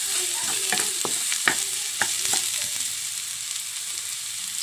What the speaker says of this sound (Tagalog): After nito, lagay ko si bawang.